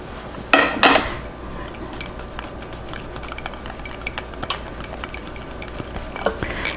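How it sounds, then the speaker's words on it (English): A whisk beats sauce into egg yolk in a pan, with quick metallic clinks and scraping strokes against the pan, a couple of louder taps near the start, then steady rapid whisking, close and alone. "So we need to take a little bit of the sauce and add it to the yolk and whisk it very fast"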